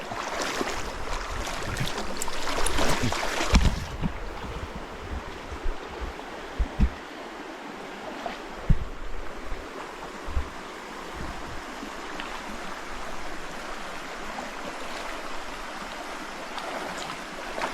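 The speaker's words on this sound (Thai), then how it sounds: "ถึงแล้วนะครับลำธารนะครับ" A forest stream flows in the jungle on an overnight fishing trip. Water rushes loudly at first, then drops to a softer steady burble with occasional knocks and footsteps nearby.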